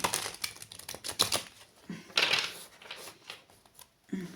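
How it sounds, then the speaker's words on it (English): Quick bursts of riffling card shuffles, several short flurries of crisp flapping clicks, close by, with brief pauses between them. "I'm getting this feeling that I need to shuffle them again."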